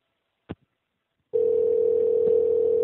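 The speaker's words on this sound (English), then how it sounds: "Someone's dialing in around on a conference call." A steady telephone dial tone on a conference call line, starting after a short click and holding loud and constant to the end with no talking over it.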